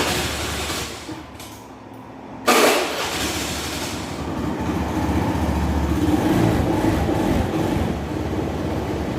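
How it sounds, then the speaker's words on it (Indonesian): A motor scooter engine idles steadily up close while its wheel fails to turn, a low continuous drone that rises slightly partway through and holds. "Motornya nyala, motornya hidup normal."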